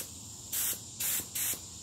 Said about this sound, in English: So what we're going to do now is we're going to check out our spray pattern